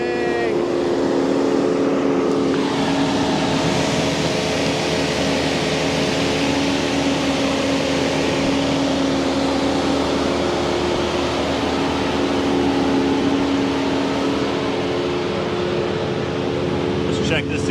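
A Ford F-250 Super Duty diesel engine in derate runs away with a loud, steady, droning roar that holds for the whole stretch. Voices can be heard faintly under the engine.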